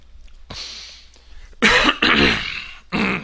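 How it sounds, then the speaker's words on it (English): A man clears his throat with several loud, harsh bursts in quick succession, near and alone after a quiet pause. "kind of clear my throat here"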